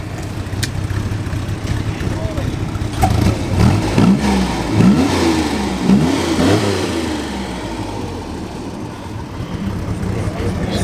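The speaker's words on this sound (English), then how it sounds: "What a fantastic sound from that flat 6." A 1960s Chevrolet flat-six classic car at a New Year's Day outing outside a pub, its fruity exhaust revving up and down close by in a few rising surges, with voices talking over it.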